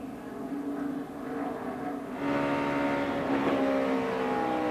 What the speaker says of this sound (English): 3 Hendrick cars, 24, 48, and 5, all slamming into each other.